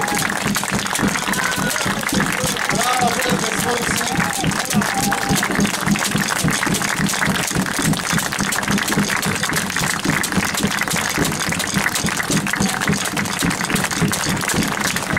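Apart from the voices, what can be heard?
crowd applauding Hungarian players at ice hockey game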